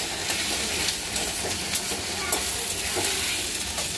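Ginger paste goes into a pan of frying prawn curry, and a continuous close sizzle and spatter follows, with small crackles and stirring scrapes scattered throughout.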